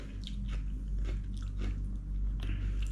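Close-up crunchy bites and chewing of crisp lettuce dipped in seafood sauce, served with oysters, the crisp crunches repeating every half second or so over a steady low background hum, with no speech.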